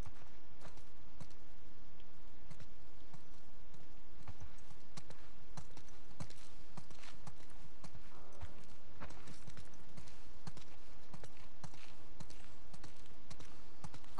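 Horse hooves clip-clopping in The Last of Us Part II, a steady run of sharp, quiet taps at walking pace that continues throughout over a soft, low ambient background.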